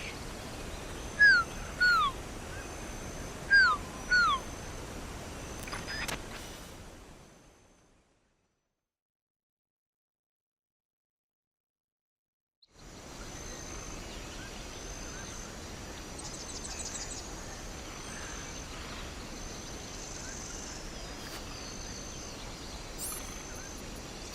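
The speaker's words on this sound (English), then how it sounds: "The Quetzal sounds like this." A few short whistled quetzal calls in the video game Metal Gear Solid: Peace Walker over faint insect-like ambience, then a stretch of silence before the soft background hum returns.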